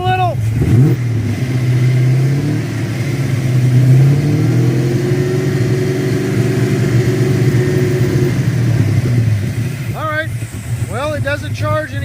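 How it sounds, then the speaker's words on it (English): An old car engine, back on the road after 27 years, idling near 1200 RPM and then revved: a loud steady rumble rises and holds in pitch before settling, with a voice heard briefly near the end. "Rev it up a little."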